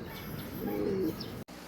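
Kept domestic pigeons cooing: one low, throaty, rolling coo rises near the middle of the clip against a steady outdoor hiss, with faint chirps around it.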